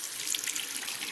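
A kitchen or bathroom tap runs cool water steadily into a sink for rinsing a finished cross stitch piece, a close, continuous hissing splash with no speech.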